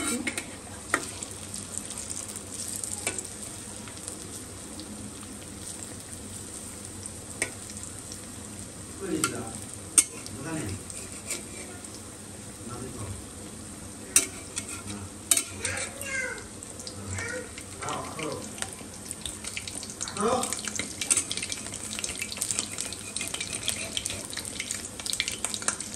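Onions fry in a pan with intermittent scraping and stirring strokes over a quiet background sizzle, interrupted by occasional clinks and scattered sharp sounds, with distant voices and a brief cat-like meow mixed in.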